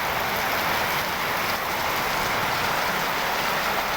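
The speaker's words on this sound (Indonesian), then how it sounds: "nah, hujan labat banar nah." Heavy rain pours steadily over a flooded housing estate, a dense, unbroken hiss of downpour at constant loudness with no voices.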